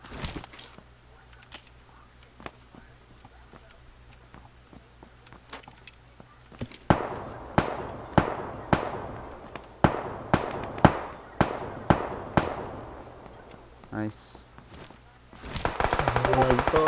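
Gunfire in the PUBG Lite battle royale game: scattered faint distant shots at first, then a run of loud, sharp, rhythmic bursts close by, ending in rapid automatic fire.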